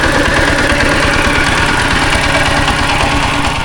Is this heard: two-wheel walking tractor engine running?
yes